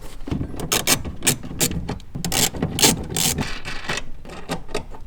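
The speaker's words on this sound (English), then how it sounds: "we're going to go and loosen these 2 10mm nuts that is holding the taillight assembly to the chassis." A ratchet loosens two 10mm nuts holding a Toyota Yaris/Vios taillight assembly to the chassis, a loud, close, rapid clicking in repeated bursts with no talking.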